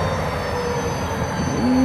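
FEC locomotive 421 shoves freight cars past a switch near North A1A, a loud close rumble of rolling cars with a sustained wheel squeal rising near the end, no talk.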